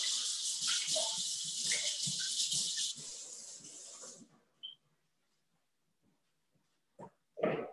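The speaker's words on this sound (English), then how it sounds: "I'm just going to discard this water." Water is poured out of a kitchen vessel and discarded during Gujarati cooking: a steady, close splashing stream runs for about four seconds, then stops, followed by a few faint knocks and a brief clatter.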